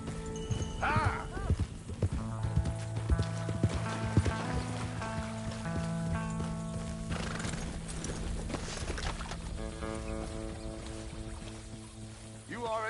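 Horse hooves clip-clop in a steady rhythm as a horse is ridden in Red Dead Redemption 2, with a neigh and whinny early on, under game music and occasional talk.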